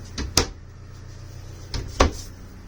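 Wooden drawers aboard a narrowboat open and close, giving two pairs of sharp knocks and thuds close by, the second pair about one and a half seconds after the first, with quiet between.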